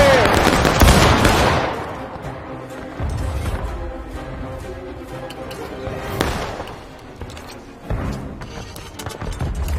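Musket volley fire on a battlefield in War of Rights: a loud close ragged burst of many shots at the start, followed by scattered nearer and distant musket cracks with rumbling echoes, and a voice speaking among the gunfire.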